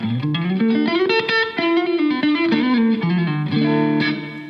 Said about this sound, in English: So I'm adding reverb to the sound rather than the whole sound going through the reverb.